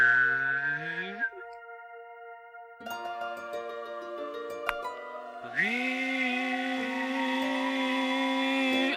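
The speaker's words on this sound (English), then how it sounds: "That's the sound of a vacuum." In the Wii game Zelda Skyward Sword, a synthetic vacuum-like whoosh rises with sliding tones, shifts into a steady chiming drone and then swells into a bright, hissy sustained roar over game music.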